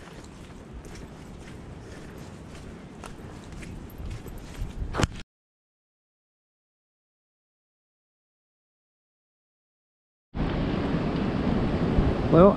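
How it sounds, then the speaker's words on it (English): Wind gusts through swaying trees in the Kent countryside, a loud, steady roaring rush that cuts to complete silence midway before returning just as strong. No one speaks. "as you can probably hear, the wind's back"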